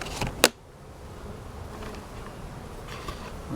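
Honey bees from a small open hive of three frames with a feeder hum faintly and continuously nearby, with a sharp knock early on.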